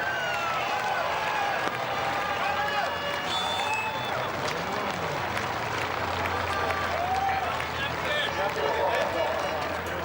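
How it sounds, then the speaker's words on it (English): Large crowd at the Brands Hatch A1GP race cheering and applauding, a dense, continuous wash of clapping and voices from the grandstands, with a commentator talking over it. "Wonderful reception from the crowd here."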